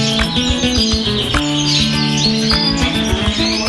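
Canaries on a breeding farm chirp and trill continuously and loudly, many birds overlapping in a dense, bright chorus with no talking.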